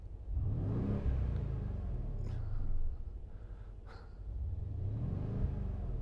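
A 2018 Mercedes-AMG GLC63 S 4.0 V8 biturbo's deep engine rumbles and revs twice through its exhaust with a throaty roar, dropping back to idle between bursts, close and loud with a faint clatter in the middle.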